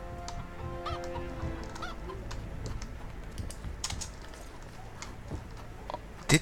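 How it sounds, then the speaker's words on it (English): A hen clucks faintly in the medieval fantasy video game The Witcher 2, a few short calls mixed into a busy town ambience with clicking and scattered noises. "A hen."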